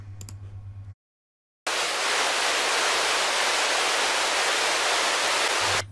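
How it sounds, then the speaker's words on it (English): Loud, steady hiss of radio static from an RTL2832U SDR FM tuner. It bursts in after a short silent gap, holds at full level for several seconds, then cuts back to a low hum near the end. "we did hear some static"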